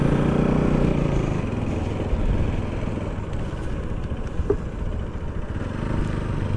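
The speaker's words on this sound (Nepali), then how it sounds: "हामी अब फर्काउँदैछौँ बाइक है" Steady, loud motorcycle engine rumble and wind noise as a bike is ridden back along a road near a bridge, continuous and close throughout, with no talking.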